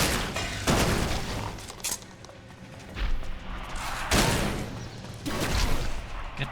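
Shotgun blasts in ELEX II: several loud, booming reports fire at uneven intervals, each with a rough, crackling tail over a busy game background.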